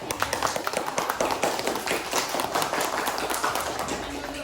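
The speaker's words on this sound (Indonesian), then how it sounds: "Kita kasih tepuk tangan apresiasi" Students in a classroom clap for a group's recycled-waste flower craft: steady, fairly faint rapid applause that stays fairly even throughout.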